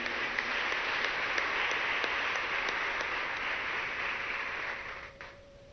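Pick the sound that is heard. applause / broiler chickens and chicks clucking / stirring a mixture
applause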